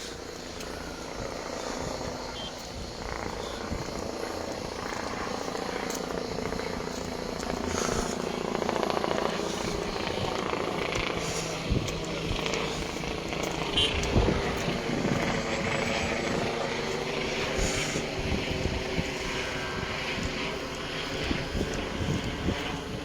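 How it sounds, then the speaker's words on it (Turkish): Steady broadband rumble of helicopter rotors overhead fighting a wildfire in Antalya, mixed with wind buffeting the microphone, continuous and fairly loud throughout. "Evet ikinci helikopter."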